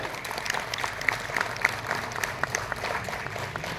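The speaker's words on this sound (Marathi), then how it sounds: "त्यांच्यासाठी जोरदार टाळ्या." Audience applause at a closing-ceremony gathering in Parner, steady clapping from a crowd that fills the whole stretch at an even level, with a few sharper claps standing out.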